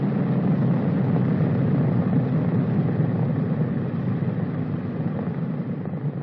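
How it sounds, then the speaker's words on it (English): Engines of a B-29 bomber run up for checks at the runway, a loud sustained low propeller drone filling the whole stretch, steady and close. "Reaches the runway, the engines must be checked."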